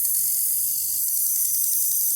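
Above-ground garden sprinkler set to a fine mist spray over a lawn, giving a steady, even high hiss that runs unbroken throughout with no talking.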